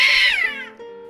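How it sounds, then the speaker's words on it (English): Two cats in the treetops of a French village yowl and caterwaul at each other, a loud, close, sliding meow that drops into a lower steady wail, with no talking. "We're about to witness some cat theatrics"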